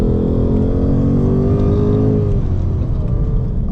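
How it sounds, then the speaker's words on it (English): A 2025 Ford Mustang Dark Horse with a manual gearbox revs hard on downshifts, its loud, close, continuous engine roar rising and falling in pitch without pause. "changing down gears, you know, you've got to have that revving sound."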